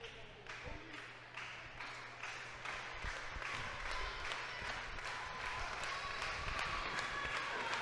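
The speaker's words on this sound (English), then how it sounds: "Crowd getting behind Kevin Blue." A wrestling crowd at a live indie show claps and cheers for Kevin Blue, distant and fairly faint, with scattered claps under a commentator's voice.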